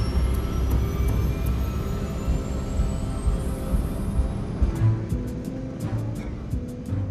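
A Japan Air Lines jet airliner taxiing at Haneda gives a steady, loud low engine rumble with a high whine sliding upward, joined near the end by a few sharp high ticks.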